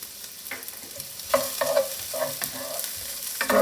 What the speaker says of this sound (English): Now add your sliced garlic right to the prosciutto.